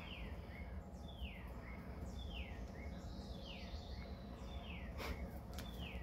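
Pet birds in an indoor loft chirp repeatedly with short descending calls scattered over a steady hiss of background noise, faint and fairly distant, with no talking.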